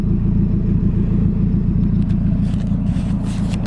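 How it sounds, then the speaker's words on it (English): Mazda Miata with an all-stainless aftermarket exhaust, a loud, steady low rumble of idling or gentle running close by, with some faint scraping clatter near the end. "I included some exhaust clips before this outro"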